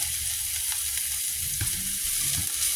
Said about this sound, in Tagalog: Gisa-gisa lang natin yan ng ganyan.